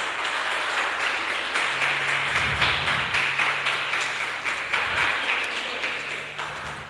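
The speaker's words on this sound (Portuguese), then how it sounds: "Aplauda o Senhor nessa noite" Church congregation at a Pentecostal healing and deliverance service applauding steadily, a dense wash of clapping that holds for several seconds, with a faint low hum underneath and no talk.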